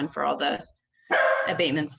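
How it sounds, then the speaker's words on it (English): A dog barks in the background during a remote city council meeting, heard in short bursts mixed with and partly masked by a person's close, steady speech. "sorry, that's my dog"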